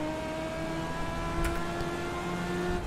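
A race car engine drones at a steady, even pitch through a qualifying lap at Stafford in the iRacing game, an eNASCAR Ignite Series event, fairly quiet and continuous with no talk.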